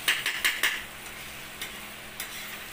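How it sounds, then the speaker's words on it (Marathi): A spoon stirs masala egg bhurji in a pan, with a quick run of four scraping clinks followed by two softer taps over a faint sizzle, with no talk. "आता आपण याला छान मिक्स करून घेऊ"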